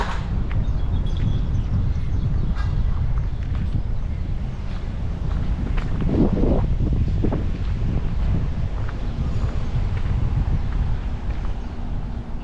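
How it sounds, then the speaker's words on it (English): Breeze gusting outdoors on a cloudy day during a walk in Tunica, Mississippi, a steady loud rush of wind buffeting the microphone throughout with no talking. "It's actually a nice breeze coming in, so it's actually not too hot."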